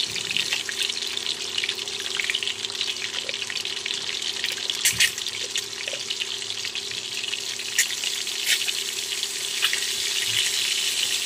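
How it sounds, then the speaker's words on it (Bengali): Boiled eggs fry in hot oil in a wok, giving a steady, close hiss and crackle with occasional sharper pops, with no voices. "কড়াতে তেল গরম করে নিয়েছি, একে একে ডিমগুলো দিয়ে ভেজে নেব"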